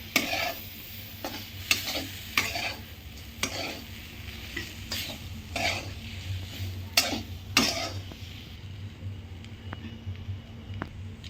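A spoon stirs crushed garlic, chili and lemon in a pan over low gas, with soft frying sizzle under intermittent scraping knocks against the pan that thin out toward the end.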